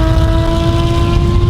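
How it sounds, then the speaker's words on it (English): A Porsche 997 Carrera S engine and exhaust hold a steady, loud drone at constant speed, with strong tonal hum throughout and no voices. "This is my Porsche 997 Carrera S. And I don't think it sounds very good."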